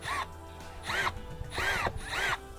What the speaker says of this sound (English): So we have some galvanized screws. We're going to be putting these in